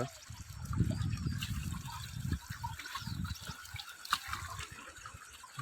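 Jeevamrut liquid fertilizer trickling and splashing into flowing irrigation water on an organic farm, a continuous close watery gurgle with no talk.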